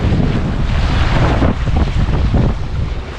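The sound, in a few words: strong wind at sea on a fishing boat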